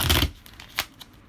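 Playing cards being shuffled by one person at home, a dense riffling burst at the start followed by a few lighter card snaps, close and fairly quiet with no talking.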